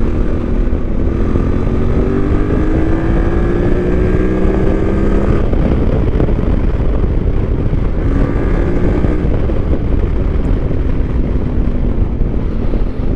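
A QJMotor 550SX adventure motorcycle accelerates while riding, its engine note rising in pitch from roughly 4,000 to 8,000 rpm in two pulls, continuous and loud beneath heavy wind rush.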